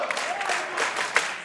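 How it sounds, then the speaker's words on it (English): An Inspire Pro wrestling crowd applauding six competitors, a steady wash of clapping with a few sharper claps, and a commentator's voice running over it. "This Inspire Pro crowd giving it up for these 6 competitors and the effort they put forth"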